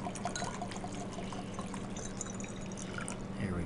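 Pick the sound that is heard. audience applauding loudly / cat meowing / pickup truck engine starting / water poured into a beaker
water poured into a beaker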